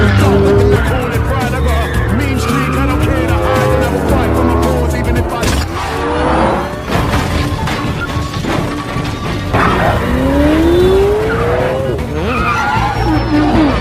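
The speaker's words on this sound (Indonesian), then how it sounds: "Dengan mobil keren ala Fast and Furious, adegan kejar-kejaran pun tak terelakkan." Car chase scene from the film Hobbs & Shaw, with loud squealing and skidding tires, revving engines, crashes and shattering glass layered with a film score, dense and continuous throughout. Voices come through in places.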